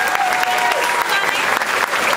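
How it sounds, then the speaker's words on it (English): A steady round of applause from an audience greets a special guest at a Q&A event in Honolulu, dense, loud and continuous for the whole stretch. "let's give another round of applause for our special guest"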